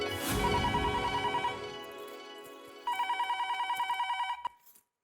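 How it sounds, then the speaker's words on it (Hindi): An electronic telephone ring for an incoming call, a warbling tone that repeats in two bursts, clear and close, then cuts off; no voices heard. "अरे सुंदर, मैं अभी तुम्हें याद कर रही थी और तेरा फोन आ गया।"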